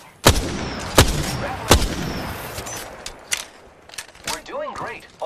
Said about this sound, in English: Firing. I'm taking shots.